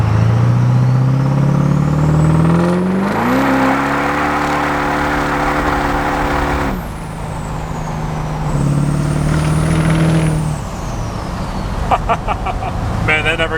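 A pickup truck fitted with traction bars does a rolling burnout, its engine roaring near and loud with rising revs, tyres screeching in sustained high squeals, and a brief rapid clatter toward the end.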